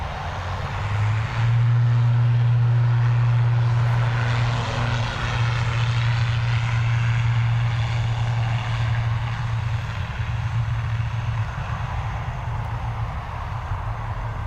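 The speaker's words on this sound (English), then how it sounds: "ATR off to Bristol." An ATR turboprop airliner takes off from runway 10 right at Dublin Airport, its loud steady propeller drone and engine hum holding strong throughout with a broad roar of rushing air, no voices over it.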